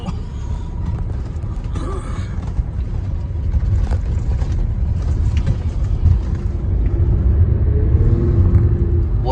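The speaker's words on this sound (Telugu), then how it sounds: "బస్సు వెళ్తున్నామండి" A bus on the road in Odisha, heard from inside as a loud, steady low engine rumble with rattles and bumps, a voice faintly present.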